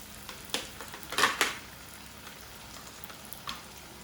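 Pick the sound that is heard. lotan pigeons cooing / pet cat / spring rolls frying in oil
spring rolls frying in oil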